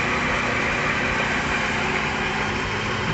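Mini lathe motor running at low speed, roughly 30 RPM, a steady, even mechanical hum with no change in pitch or rhythm, close and moderately loud, no talking.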